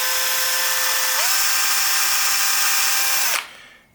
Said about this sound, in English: Slightly bigger, more expensive drill bit.